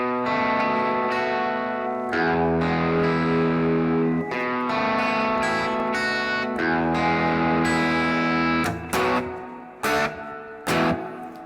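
Crunchy overdriven electric guitar through a Blackstar IDX Floor amp modeler on its Plexi setting, playing chords and riffs, loud and sustained, with a few brief stops and stabs near the end.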